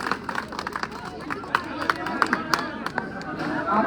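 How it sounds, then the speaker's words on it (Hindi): At an outdoor village election rally, scattered claps crackle over crowd chatter, picking up and getting somewhat denser toward the end while voices murmur throughout. "एक बार मनीष जी के लिए जोरदार तालियां"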